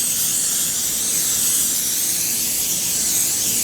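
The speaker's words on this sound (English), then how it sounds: "I'm just using some non-stick cooking spray." A continuous close hiss of non-stick cooking spray being sprayed from a can onto pork, steady and loud for a few seconds before stopping.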